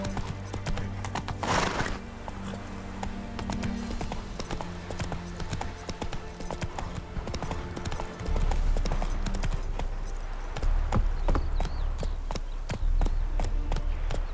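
A horse in The Witcher 3 gallops with loud, steady clip-clopping hooves and a whinny early on, set against game music and deep low drones.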